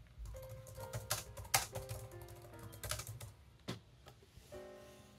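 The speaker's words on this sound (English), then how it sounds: "I want to test my amazing typing skills" Quick, uneven keystrokes clatter on a 2012 ThinkPad laptop keyboard, close and fairly quiet, with brief pauses between bursts of typing.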